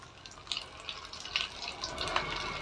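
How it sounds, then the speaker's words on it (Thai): Beef jerky frying in hot oil in a pan over moderate heat, giving a steady close sizzle with scattered crackles and pops throughout. "พอน้ำมันร้อนได้ที่ก็ ใส่เนื้อไปเลยนะครับ"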